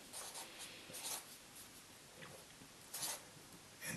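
Pen or pencil writing numbers on paper, faint close scratchy strokes in short bursts with small pauses between them.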